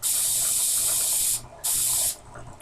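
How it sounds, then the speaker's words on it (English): A spray paint can spraying, two loud sustained hissing bursts separated by a short pause, close to the microphone, with no talking. "Oh! I love the spray paint."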